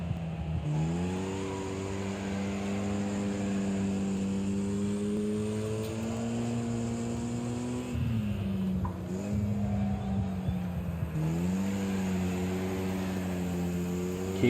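Race car engines drone in the Wreckfest video game, a loud, steady roar with pitch rising and dipping as cars shift and accelerate, heard alone without talk.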